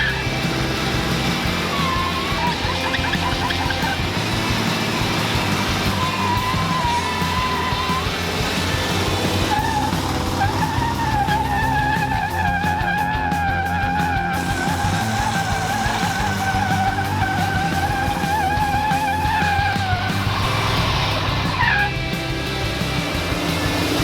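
A 6.5 turbo diesel truck spins and skids its tires with a long, continuous roar of engine and rubber, wavering squeals rising over steady mechanical noise throughout.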